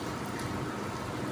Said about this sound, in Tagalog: umuulan sa labas. Buhos na ulan. Ang lakas ng ulan